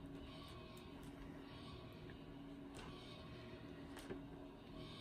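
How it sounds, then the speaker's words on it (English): A heater runs in a cold craft room, making a steady, faint whirring hum that stays even throughout, with a few small clicks over it. "that's the heater that you're hearing in the background"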